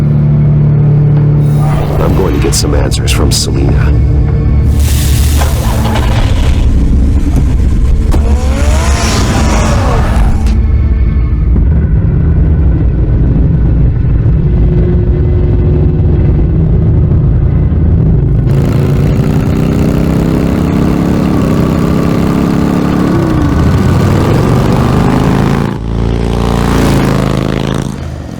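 The Batmobile from Batman: The Telltale Series, with a deep engine rumble that rises in revs and roars as it drives off. Someone speaks over it, and the engine drone stays loud and steady throughout.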